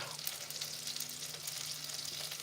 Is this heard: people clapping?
no